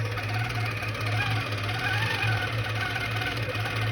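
Longarm quilting machine stitching circles, a steady close mechanical hum and rapid needle chatter running continuously without pause.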